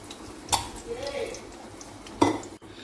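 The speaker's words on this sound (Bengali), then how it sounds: "এবারে আমি খুব আস্তে আস্তে নেড়ে নেড়ে রান্না করব যতক্ষণ না ডাল থেকে জল টেনে যায়" Moong dal is stirred slowly in a pot over very low heat, with a spoon scraping and knocking against the metal in two sharp clinks and softer scrapes between them.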